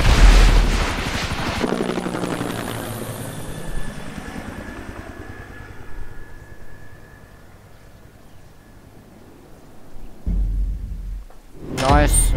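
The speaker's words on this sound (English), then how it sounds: "Nice fake helicopter sounds." Steady whirring helicopter rotor noise in the video game GTA Online, loud at first and then fading into a lower drone before a brief burst near the end.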